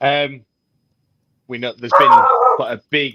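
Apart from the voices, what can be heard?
dog barking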